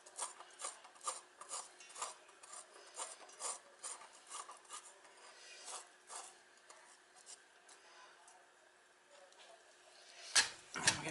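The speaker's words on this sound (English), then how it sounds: "And you just literally scrape out the squash." Cooked spaghetti squash flesh being scraped out of its hot shell, with soft, steady rasping strokes repeating close by, then a louder knock near the end.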